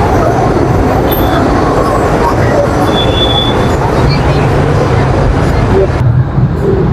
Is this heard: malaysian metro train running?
yes